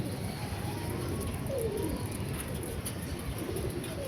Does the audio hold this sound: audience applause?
no